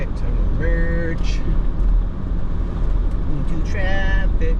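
Dense Houston highway traffic roars steadily around a merging car, with a constant low rumble of tyres and engines and a couple of brief tonal horn-like whines rising above the wash.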